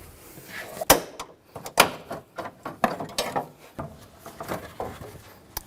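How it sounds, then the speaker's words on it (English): Trim clips on a 2007-2013 Chevrolet Silverado 1500 are pried loose with a trim tool, giving a series of sharp, close plastic snaps and clicks spaced about a second apart, with scraping between them. "You can also use a trim tool. Just try to pry those out."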